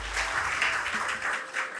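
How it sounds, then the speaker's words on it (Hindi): Audience applause at an award ceremony honoring successful excise constable exam candidates, a dense patter of many hands clapping steadily for under two seconds, with no speech over it. "जोरदार तालियां हो गया, जोरदार तालियां।"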